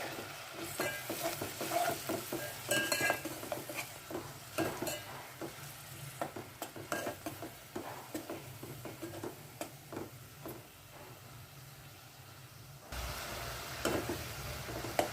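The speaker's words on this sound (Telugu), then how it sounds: "అదేవిధంగా పచ్చిమిరపకాయలు వేసి బాగా వేయిద్దాం నువ్వుల నూనె కదండి" Green chillies frying in sesame oil with onion, a steady close sizzle broken by repeated scraping stirs and clinks of a spatula against the pan, ending in a smoother crackle.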